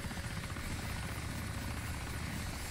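A helicopter in the survival video game DayZ sends out a steady, loud rotor drone with rapid blade chop, continuous and unchanging, with no voices over it.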